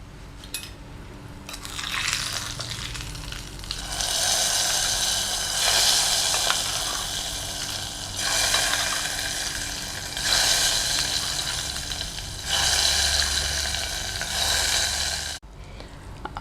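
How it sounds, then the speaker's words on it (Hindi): Onion, cumin and asafoetida tempering sizzling in hot oil for dal tadka, a steady broad hiss that swells and eases in waves, with faint clinks of a pan and spoon underneath; no one speaks. "फ्लेम ऑफ करते हैं और ये भंगार डालते हैं।"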